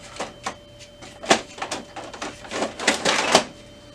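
Paper being loaded into the tray of an Epson WorkForce Pro WF-4734 printer: a string of close, sharp plastic clicks, slides and rustles, coming in uneven bursts that grow busier toward the end, with no talk.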